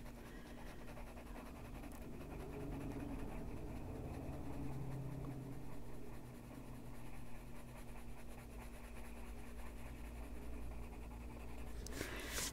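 Colored pencil scratching and blending on paper during adult coloring of a forest design, a continuous soft dry scraping with steady strokes, close and fairly quiet, without speech.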